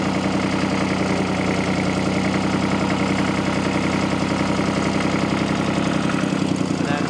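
A 1957 Porsche P133 diesel tractor idles steadily with a low, knocking engine rumble and hydraulic strain as its front bucket tilts; the engine note shifts slightly near the end.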